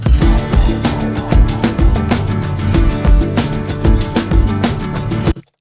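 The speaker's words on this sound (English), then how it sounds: "I have an instrumental of the track that we're going to be mixing the vocal to." An instrumental backing track built in GarageBand plays loud and full, with steady punchy drums, bass and chordal parts in a driving rhythm, then stops abruptly at the end.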